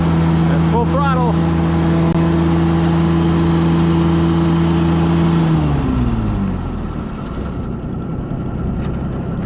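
A small engine running on old gas roars at full throttle in a loud, steady, close drone, then its pitch drops and it winds down to a rougher, lower idle near the end.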